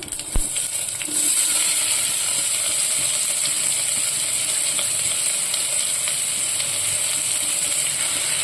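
Onions drop into hot oil already crackling with cumin and mustard seeds, and a loud, steady sizzle swells and holds close up, with faint popping ticks scattered through it.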